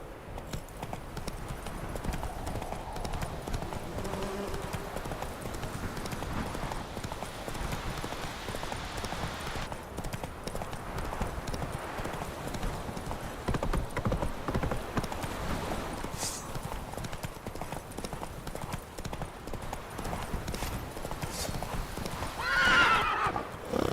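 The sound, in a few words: horse galloping in video game The Witcher 3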